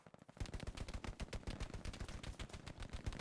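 Sustained machine gun fire in the World War II shooter Hell Let Loose, a rapid, steady stream of loud shots that rattles on without pause for about three seconds after a short quiet start.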